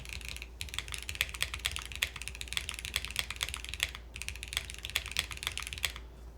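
Mechanical keyboard switches on a Matrix NOOS build with a 1.2 mm PCB and skeleton plate, typed in a quick, continuous stream of light, crisp clicks and clacks, close and clear, with only brief pauses.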